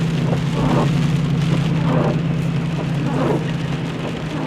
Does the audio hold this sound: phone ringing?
no